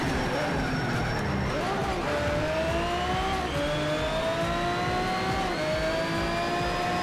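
Pagani Zonda race car engine in Need for Speed: Shift, revving steadily with rising gear pulls and shifts over game road noise, loud and continuous throughout a race.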